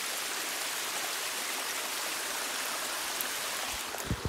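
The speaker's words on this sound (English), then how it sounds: "stream, rushing water, little waterfall down here." A rushing stream tumbling over a little waterfall in green springtime Corfu, a dense, steady roar of water that stays close and constant, with a few small splashes near the end.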